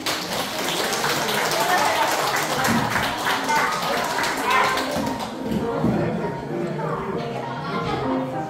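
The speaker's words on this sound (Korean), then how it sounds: "큰 박수 부탁합니다" Loud, steady clapping from an audience applauding a youth group's performance at a Won Buddhist temple variety show, filling the whole stretch with dense patter and a few voices mixed in.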